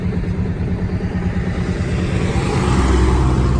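A Kawasaki Mule 2510 utility vehicle engine runs steadily during a test drive after repairs, a loud continuous motor drone that builds slightly toward the end, with no talk.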